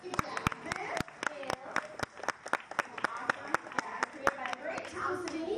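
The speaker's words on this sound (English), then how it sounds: "Round of applause, you guys." Audience applause at a Universal Studios horror makeup show, a lively burst of close, sharp handclaps with crowd noise and voices mixed in throughout.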